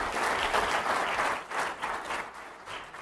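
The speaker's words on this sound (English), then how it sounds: "Give that a round of applause." Audience at a supper gathering breaks into loud, sustained applause, dense clapping that swells and dips slightly in waves before carrying on without letup.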